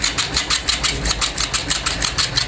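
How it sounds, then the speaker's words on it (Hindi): An Olivetti PR2 Plus dot matrix printer, its carriage motor just repaired, printing a page: a rapid, steady chatter of print-head bursts repeating in an even rhythm, close and moderately loud, with no voices. "यहाँ पर आप देख सकते हैं प्रिंट आउट हो रहा है इसमें"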